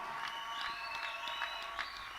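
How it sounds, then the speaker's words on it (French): Applause from an assembly at a church wedding ceremony, a steady, dense wash of clapping heard from a distance at low volume, with scattered faint cheers and a sustained tone running through it. "Applaudissons encore très fort"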